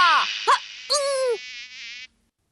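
A cartoon mosquito's whining buzz rises and bends in pitch through a few short bursts, loud and close, then cuts off abruptly into silence.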